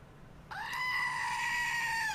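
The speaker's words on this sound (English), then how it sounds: "So we didn't have any goat screaming today." A screaming goat toy lets out one sudden, sustained nasal scream that starts abruptly and holds steady at moderate loudness to the end, alone, with no voices over it.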